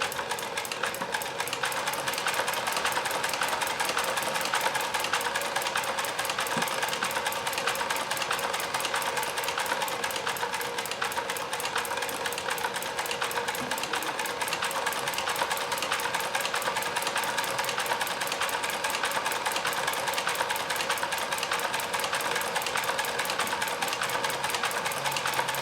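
A Kenmore 158.1040 sewing machine fitted with a Singer zigzag attachment sewing a multi-point zigzag, a loud, rapid, steady mechanical chatter running without pause, close by and alone.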